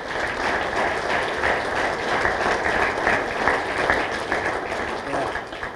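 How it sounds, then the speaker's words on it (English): Steady, dense applause from an audience at a 2016 police department retirement celebration, many hands clapping together at full strength for about six seconds with no pauses. "let's give them a round of applause"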